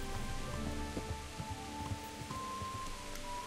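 Steady rain in the video game Kingdom Come: Deliverance, a soft continuous patter on surfaces with scattered drip taps over a low hiss, faint and even throughout.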